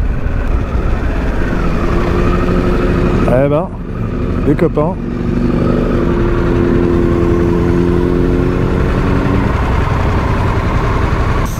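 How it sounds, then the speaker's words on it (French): A Harley-Davidson Pan America 2021 motorcycle of 152 horsepower rides in sport mode, its engine droning steadily and loud throughout, with a brief dip and shift around four seconds while someone talks over it. "On va essayer quand même de se trouver une ligne droite pour faire une accel en mode sport."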